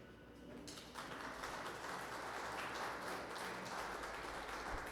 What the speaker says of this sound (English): Oh, and that one gets a clap